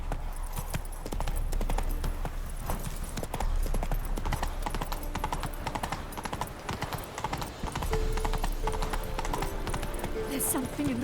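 Roach, the horse in The Witcher 3: Wild Hunt Next Gen, gallops with loud, rapid, repeating hoof clip-clops under game music and occasional talk, with a brief whinny near the end.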